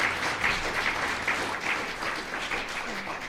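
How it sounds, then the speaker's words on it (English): Lecture audience applauding after a talk in a games lecture series, a steady moderate patter of clapping filling the room without a break. "Let's have another applause for the lecture."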